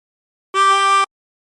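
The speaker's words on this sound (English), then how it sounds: "Blow into 6." A single harmonica note, blown into hole 6, holds steady for about half a second and then stops cleanly, alone in silence.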